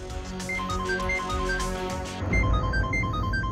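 A bright electronic phone ringtone chimes a repeating melody over background music.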